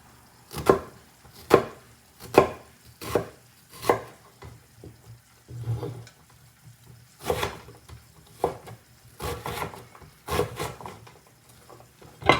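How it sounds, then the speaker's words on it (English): Knife mincing half an onion on a cutting board, sharp rhythmic chops landing close and clear in quick irregular bursts with brief pauses between runs. "1/2 of onion. And start mincing it."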